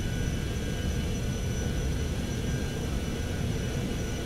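A Citation X business jet rolls for takeoff in Microsoft Flight Simulator, its engines holding a steady, loud, broadband roar that stays even from start to finish.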